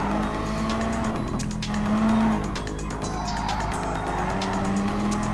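A race car in a PlayStation racing video game roars continuously at high revs with repeated tire squeals through a curve, loud and steady without pause.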